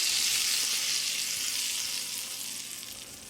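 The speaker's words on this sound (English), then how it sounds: "Look at the sizzling noise." Hot tadka tempering hisses and sizzles loudly over cooked yellow moong dal, a continuous crackling sizzle that slowly fades.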